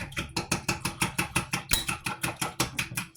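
Blueberry muffin batter is whisked briskly in a bowl, a fast, even run of close rhythmic strokes clicking against the sides, about six per second, with no talk over it.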